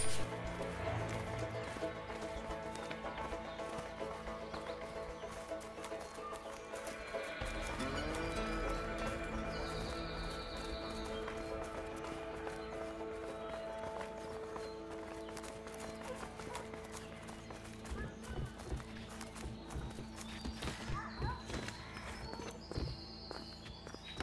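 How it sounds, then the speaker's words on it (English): Game horses trot along in the prison-break game A Way Out, with steady clip-clop hoofbeats under layered music and ambient sound, plus occasional snorts. "Let's just hope these horses keep running."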